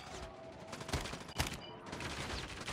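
NA45 sniper fired from the hip in Call of Duty Mobile, a few sharp shots amid steady game noise, near and moderately loud, with a voice briefly under it.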